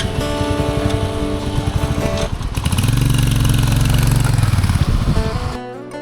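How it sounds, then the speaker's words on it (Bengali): A motorcycle cruising at about 70–80 km/h on a cloudy-day ride toward Dublaguri beach in Odisha gives a loud, close engine drone that rises in pitch and strength midway, then drops away near the end. "খুব ভাল লাগছে চালাতে। মোটামুটি 70-80তে বাইক চলছে।"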